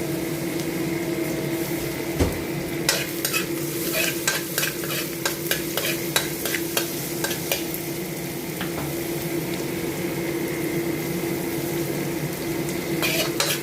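Sliced ginger and garlic frying over medium heat in a pan for orange chicken, with a constant close sizzle, a low hum and bursts of rapid clicking utensil stirring through the middle.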